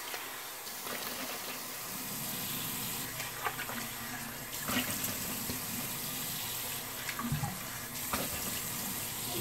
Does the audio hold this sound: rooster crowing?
no